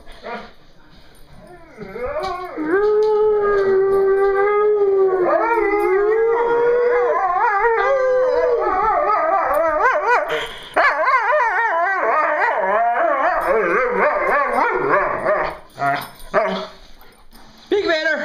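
Two dogs howl long and loud at close range, their rising and wavering howls overlapping with yips and whimpers, while a person repeatedly urges them on.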